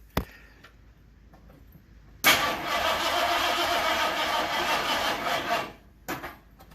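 A 1973 Ford Torino engine cranks on a failing battery: a click, then a steady grinding starter whir for several seconds that cuts off, followed by a short extra burst, close and fairly loud.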